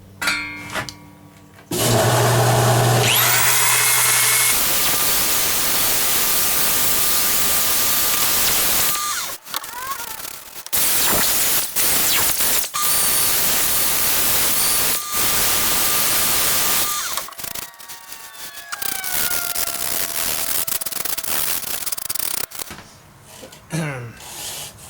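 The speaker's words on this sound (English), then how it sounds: "I'm going to sand that down." A ficus wood bowl is sanded on a lathe, giving a loud, steady broadband hiss in long stretches broken by short pauses and a faint whine from the spinning machine.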